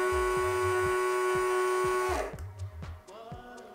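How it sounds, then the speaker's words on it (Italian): Small LEGO Power Functions electric motor spinning while connected to a Power Functions hub, giving a steady high whine with a low rhythmic throb, close and quiet, which cuts off partway through. "questo è il motore classico Power Function collegato al solito hub Power Function, e vi faccio vedere"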